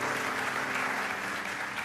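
A church congregation at a Pentecost service claps together in steady, dense applause that fills the room evenly for about two seconds, with no voices standing out.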